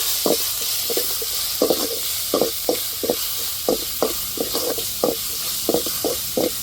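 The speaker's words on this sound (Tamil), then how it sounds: "இப்போ இஞ்சி பூண்டையும் இதோட போட்டு நல்லா பச்சை வர மரத்தட்டையும் வதக்கிட்டுருக்கோம்" Ginger and garlic sautéing in a pan for chicken curry: a constant soft sizzle underlies a steady run of quick utensil taps and scrapes against the pan, close and evenly repeated.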